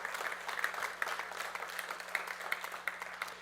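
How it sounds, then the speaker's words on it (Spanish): Church congregation applauding, a sustained patter of many hands clapping with a few louder claps standing out, moderately distant and without speech. "Vamos a aplaudir con ganas."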